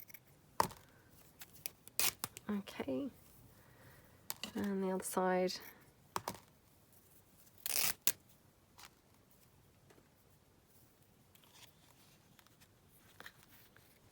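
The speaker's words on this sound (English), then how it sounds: "I might have to get it started with the scissors." Scissors snip and paper tears as lace paper is cut for a Christmas craft project, in a few brief bursts between quiet pauses, with a person speaking briefly in between.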